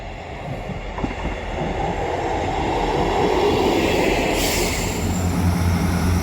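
A train rumbles steadily nearby at a station, wheels clattering on rails, with a brief high squeal partway through; no voices.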